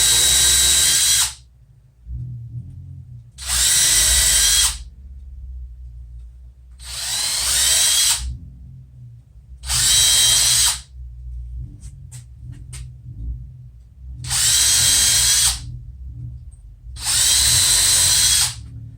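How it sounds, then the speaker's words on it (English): A power drill whirs in seven steady bursts of about two seconds each while drilling holes, with short quiet pauses between, loud and close. "I was drilling some holes and I wanted square"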